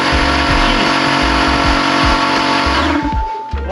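An air compressor in a camper van roars loudly and close at startup with a dense, throbbing mechanical drone. It keeps running steadily before winding down and cutting off near the end, with no talking.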